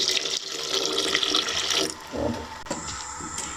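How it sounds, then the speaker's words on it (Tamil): Water pours from a tap into a cooking pot for drumstick-leaf sambar, a steady close splashing stream that cuts off partway, followed by quieter drips and kitchen handling sounds. "இப்போ கொஞ்சம் தண்ணி ஊற்றிப்போம்."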